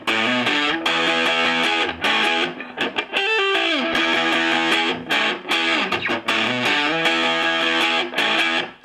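Distorted electric guitar plays a groovy riff, loud and continuous with rhythmic chord stabs and a brief sliding bend midway, no voices.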